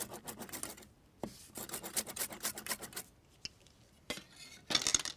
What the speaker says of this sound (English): A herbal hit of parsley and fresh mint. And get chopping.